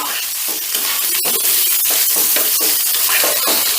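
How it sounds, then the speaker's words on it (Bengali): Sliced tomato frying in a pan over low gas while being stirred, a loud steady sizzle broken by scraping stir strokes, close and continuous with no talking. "আর এটাকে জাস্ট একটু নাড়াচাড়া করে নেব মানে মিনিট খানিকের মতন একটু নাড়াচাড়া করে নেব যেন এটা পুড়ে না যায়"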